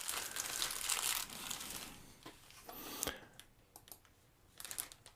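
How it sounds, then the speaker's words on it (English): Sealed plastic bag holding a 100-piece jigsaw puzzle crinkled up close, a soft, steady rustle with a few sharper crackles, quiet and alone. "Just a plastic bag sealed on the end."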